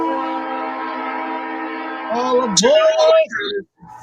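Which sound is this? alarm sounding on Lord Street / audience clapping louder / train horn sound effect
train horn sound effect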